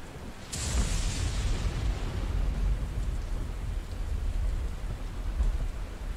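Heavy rain pours down steadily at night in the video game Dying Light, a dense, loud, continuous hiss with a low rumble underneath and no talking.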